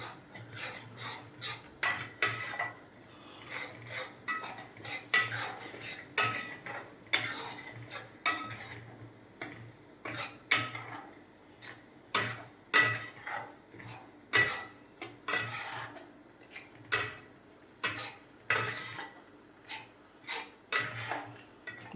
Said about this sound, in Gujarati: હવે આપણે ધાણા જીરું નાખી દઈશું. બસ હલાવી દઈશું.